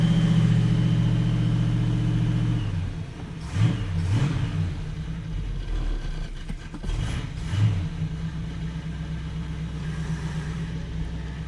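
A 1937 Buick street rod with a rebuilt engine fires up and settles into a rumbling idle, then gets two quick revs that swell and fade, heard close and alone.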